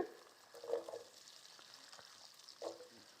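Potatoes fry in a pan with browned onions, giving a steady soft sizzle with a few louder stirring scrapes, close by and alone.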